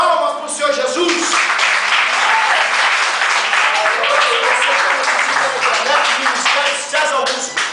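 A church congregation applauds for Jesus, dense, loud clapping from many hands filling the room, with voices calling out over it and the sound holding steady before tapering at the end.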